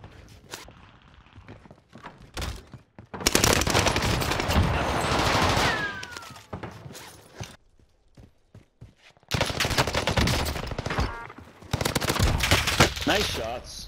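Video game shootout with Armaguerra and H4 Blixen weapons: long loud bursts of rapid automatic gunfire alternate with quieter gaps of scattered shots and footsteps, and a voice briefly speaks.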